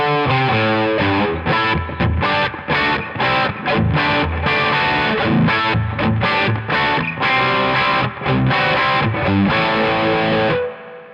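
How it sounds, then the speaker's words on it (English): An 80s hair metal electric guitar plays with a distorted tone soaked in hall reverb, loud chords and riffs running steadily with brief rhythmic gaps and ringing out at the end, played alone without talking. "we're going for like a hall reverb or moderate to large space reverb"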